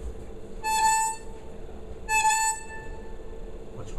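A harmonica plays two separate sustained notes, each with a bend, bright and reedy, close and solo, with a quiet pause between them.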